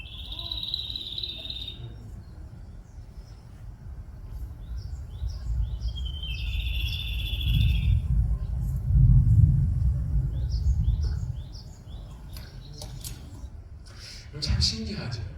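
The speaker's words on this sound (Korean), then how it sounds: "가장 잘 노래하고 우는 새 중에 하나가 이 올새라고 합니다" Song of the olsae bird recorded in Cheonan, clear repeated chirping phrases and high whistled notes over low rumbling background noise and a voice talking.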